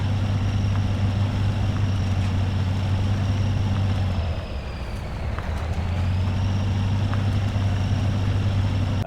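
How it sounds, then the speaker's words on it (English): A truck engine idles steadily in the off-road mud game MudRunner, a loud, constant low droning note that dips briefly midway before returning to its steady hum, with no voices. "the constant engine note at that level does get a bit much"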